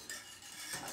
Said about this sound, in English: So what's happening is my grits are thickening up. I'm continuing to stir them.